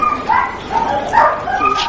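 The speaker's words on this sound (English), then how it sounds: "These dogs are greyhounds, and greyhound racing is very popular in England." Greyhounds before a race in England give a close, loud flurry of yelping barks and whimpering yips, several overlapping calls in quick succession.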